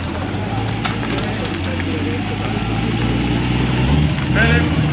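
The 1979 Daytona 24 Hours winning Porsche 935 Group 4 race car rumbles steadily at a low idle during a parade at Villa d'Este, with people talking over the engine.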